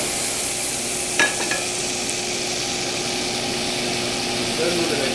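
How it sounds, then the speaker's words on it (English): Fresh calamari frying in a pan with clams, a steady hiss of sizzling oil throughout with a brief scrape of stirring, close and fairly loud. "We're going to put some fresh calamari in there."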